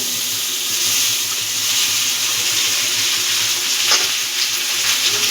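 Pasta and boiled egg fry in a pan with a steady, bright hiss of hot oil, continuous and close, with a faint utensil tap partway through and no speech.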